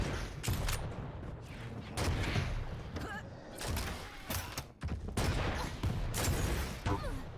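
Rocket and weapon fire from the arena shooter Quake Champions in a competitive league match: dense, rapid bursts of blasts and impacts with short gaps between volleys, loud and close.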